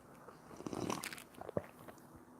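Quiet, close-miked sipping and swallowing of a drink at a late-night PC build, with soft wet mouth noises, a gulp and a small clunk, very faint overall and with no talking.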